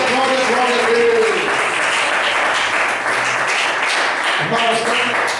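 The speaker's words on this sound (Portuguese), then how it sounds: "Dá uma salva de palmas bem bonita para Jesus." Congregation applauding during a church service, loud dense clapping throughout, with singing or raised voices heard over it near the start and again near the end.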